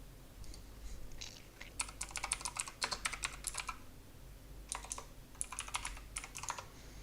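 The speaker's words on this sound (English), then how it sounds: "So I'm going to be typing in," Bursts of rapid typing on a computer keyboard, clattering keystrokes in two main runs separated by a short pause, fairly close and alone without talk.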